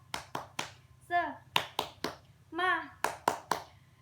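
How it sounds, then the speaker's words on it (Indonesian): A class of second-grade children at an Islamic primary school perform a rhythmic clapping chant, with crisp, evenly spaced group claps broken by two short chanted calls from their voices. "Ayo kita tepuk semangat ya."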